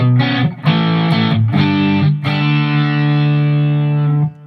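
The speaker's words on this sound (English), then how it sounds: "Get a great natural overdrive sound." Distorted electric guitar chords through a Fender Bassman tube amp with both channels cranked, loud and gritty with a crunchy, natural overdriven tone, changing a few times before one chord rings out and cuts off.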